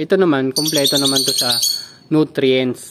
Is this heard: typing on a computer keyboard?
no